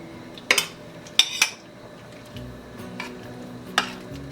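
A utensil scrapes and clinks against a crock pot while Velveeta and cream cheese are stirred into soup, with several short sharp clatters and softer stirring in between.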